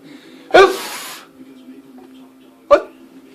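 A person with an itchy, sniffly nose lets out a loud close sneeze, followed about two seconds later by a second shorter sneeze in an otherwise quiet room.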